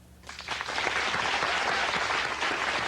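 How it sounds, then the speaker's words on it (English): A television studio audience breaks into applause after a brief quiet start, clapping rising quickly and then holding steady and fairly loud to the end. "Just applaud."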